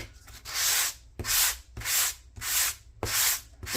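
A sanding block rubs gently over paper in five even, rhythmic strokes, each a close, raspy scratching swish with brief pauses between.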